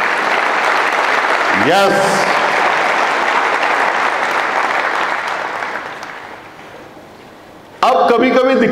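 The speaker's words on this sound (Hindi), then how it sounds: "पूरे नहीं बजा रहे ताली" Loud, dense applause from a school morning-assembly audience fills most of the stretch, tapers off, and gives way to a voice speaking near the end.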